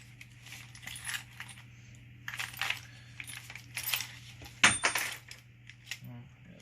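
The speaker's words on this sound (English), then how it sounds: "It's just random McCulloch bolts and stuff from part saws and everything." Hands rummaging through a stash of loose McCulloch chainsaw bolts salvaged from parts saws, with repeated bright metallic jingles and clinks, a sharper clatter partway through, and a low steady hum underneath.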